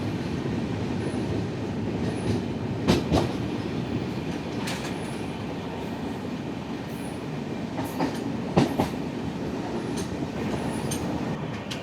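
Netravati Express running non-stop on the Konkan Railway after Ratnagiri, heard from on board as a steady rumbling roll with a few sharp wheel clicks and squeals, no talking.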